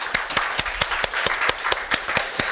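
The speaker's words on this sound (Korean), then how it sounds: "찬양 받으신 하나님께 감사 영광의 박수 올려드리겠습니다." A church congregation at a youth worship service claps in steady unison, an even rhythmic beat of about four claps per second, close and fairly loud throughout.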